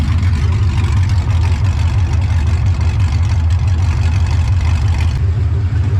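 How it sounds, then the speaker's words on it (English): A Nissan Patrol with a swapped LS V8 idles with no exhaust fitted, giving a loud, raw, steady rumble with a rough pulsing beat that runs close up and unbroken, with no talk. "No exhaust on it, so it sounds hectic."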